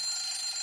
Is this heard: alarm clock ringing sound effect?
yes